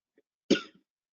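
A single short, dry cough from a person recovering from a cold, close and clear against silence, preceded by a faint breath.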